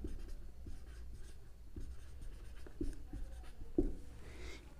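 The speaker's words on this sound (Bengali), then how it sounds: "তো লিখে দিচ্ছি" Pen writing out a maths solution on compound interest, with faint scratching strokes and a few small taps, close and quiet over a low background hum.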